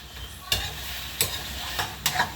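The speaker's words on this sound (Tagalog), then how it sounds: "Halo-haloin lang natin guys." Adobo stirred in a pan over a steady sizzle, with three or four distinct scraping strokes of the utensil spaced about half a second apart, close and clear without talk.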